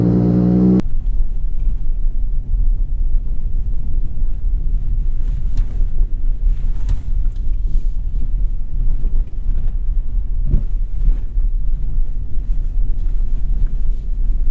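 Chevrolet Colorado ZR2 driving over a rough off-road trail, a loud continuous low engine and road rumble with wind buffeting, plus occasional knocks from the bumpy ground.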